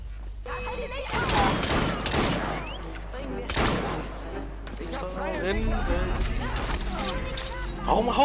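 Gunfire in Assassin's Creed Syndicate, bursts of shots over busy game sounds, with a person talking throughout.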